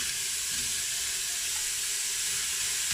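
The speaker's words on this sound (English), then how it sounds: "I'm gonna dry fry these for 2-3 minutes until they start kind of browning a little bit and softening" Chopped onions and small red pointed peppers dry frying in a hot Instant Pot make a steady, bright hiss that stays even and fairly loud throughout, with no talking.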